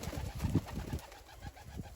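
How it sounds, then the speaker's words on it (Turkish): Iranian pigeons coo in low, soft, throaty bursts close by, with faint rustling in a quiet space. "Bu da benim İran kuşları."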